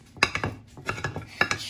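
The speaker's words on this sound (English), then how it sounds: "chopping my apricots." Apricots chopped with a knife on a board at home, a series of close, crisp taps in an uneven rhythm with small clinks between them.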